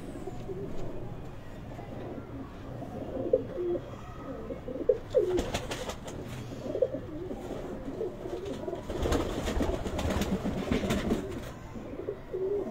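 Sialkoti pigeons coo in repeated soft, throaty phrases, several birds overlapping at a moderate distance against a steady background hum, with no talking.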